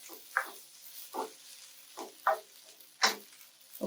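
Turmeric rice stir fry being stirred in a pan, with five distinct scraping strokes at roughly even intervals over a faint background sizzle, close and clear with no talking.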